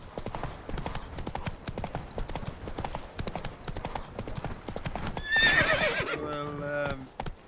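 Roach, the horse in The Witcher 3, gallops with rapid rhythmic hoofbeats, then gives a loud neigh near the end as it slows.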